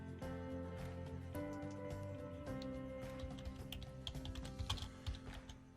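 Rapid clicks from a computer keyboard, fairly near and steady for several seconds, over a faint electrical hum and with no talking.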